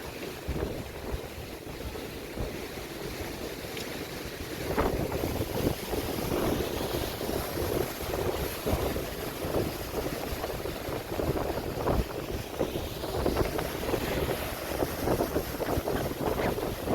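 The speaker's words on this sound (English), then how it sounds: "I love the sound of the waves when they're like this. You can really hear it from up here." Ocean surf at Jacksonville Beach, Florida, heard from an elevated spot, a broad continuous wash of waves with wind buffeting the microphone, steady and fairly loud with no talk.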